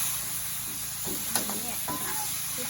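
Food stir-frying in a pan over a high, flaring flame gives a steady broadband sizzle and hiss, with a few clattering stirs and pan knocks partway through, while people talk nearby.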